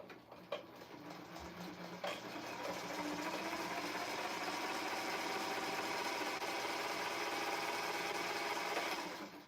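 A sewing machine stitches a seam all the way around a piece of fabric, its steady, close mechanical whirr running continuously after a couple of brief clicks at the start.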